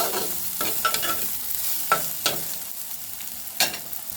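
Onions frying with dried fish and bean seeds in a hot pan, a continuous sizzle broken by several distinct stirring scrapes and clinks, close and alone.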